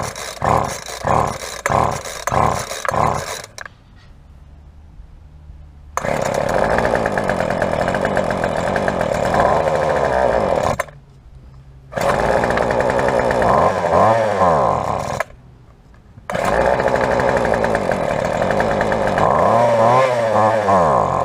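A small two-stroke gas engine on a string trimmer with a dirty carburetor runs at half choke. It sputters and pulses at first, then revs loud and steady in long runs broken by brief idle dips, with no talk.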